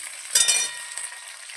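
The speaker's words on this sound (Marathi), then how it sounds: "आता टमाटे टाकलं" Tomatoes drop into a pan of frying onions and coriander, giving a short burst of hissing that settles back into a soft, steady sizzle.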